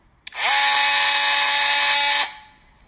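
A Bosch GOP 12V-28 cordless oscillating multi-tool, fitted with a metal-cutting blade, runs up and makes a steady, loud, close buzzing cut for about two seconds before stopping abruptly.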